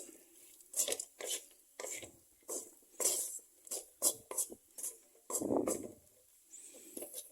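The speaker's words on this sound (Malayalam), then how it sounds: "നമ്മൾ ഫ്രൈ ചെയ്ത് വെച്ചിരിക്കുന്ന പാവയ്ക്ക ഇതിലേക്ക് ഇട്ട് നന്നായിട്ട് മിക്സ് ചെയ്യാം" Fried bitter gourd stirred into a pan for a Kerala-style thoran, with a steady run of close spatula scrapes and clinks against the pan, one longer rough scrape near the end.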